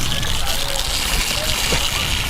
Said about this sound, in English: is the Majestic Waterfall.